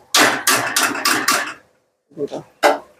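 Boiled Maggi noodles being stirred in a pan make a run of loud, close scraping clanks in quick succession, then a pause and a few lighter knocks and scrapes.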